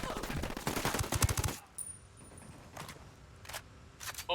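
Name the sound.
gunfire in the video game Ghost Recon Wildlands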